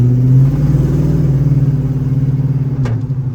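A Chevy Silverado pickup with new Brembo brakes slowing to a stop, its engine hum loud and close and steadily winding down, with a brief higher noise near the end.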